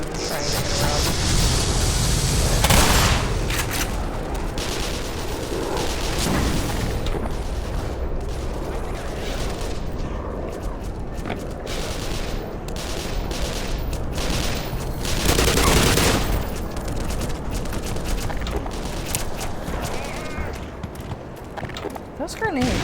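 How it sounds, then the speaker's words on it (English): Grenade explosions and gunfire in Black Mesa, a busy continuous barrage of shots with occasional louder booms, heard under someone talking. "Those grenades do not go very far."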